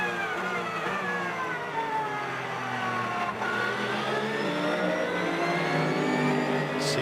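GT World Challenge America race cars at Barber Motorsports Park roar past as engines rev and shift, several overlapping mid-pitched engine notes sweeping up and down, loud and continuous.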